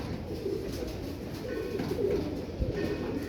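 Tiger, Dub Walay and Rampuri pigeons coo softly and steadily, low throaty calls repeating close by over a faint background hum.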